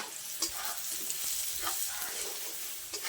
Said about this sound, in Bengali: মশলাটা একটু কষিয়ে নিয়ে পটলটা দিয়ে দেবো